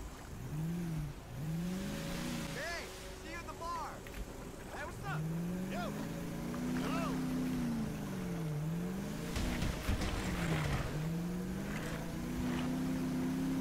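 A motorboat in GTA 5 pulls out of a marina, its engine droning steadily with rising and falling pitch sweeps as it throttles up and turns, loud and continuous with wind and water wash behind.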